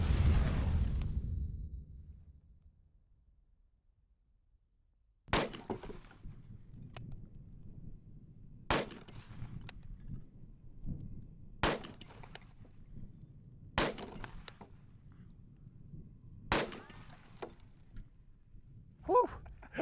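A .500 Smith & Wesson Magnum handgun fires six loud, sharp shots spaced a few seconds apart after a quiet stretch, each crack trailing off in a brief ringing echo.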